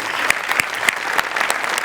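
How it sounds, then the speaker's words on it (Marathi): An audience at a Marathi comedy show applauds loudly and steadily, with a few sharper individual claps standing out from the dense clapping. "जोरदार टाळ्या"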